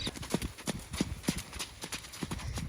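Hooves of a 149cm eight-year-old Welsh Cob mare clip-clop steadily across an arena during schooling, a regular rhythmic beat of close, moderately loud footfalls with soft background noise.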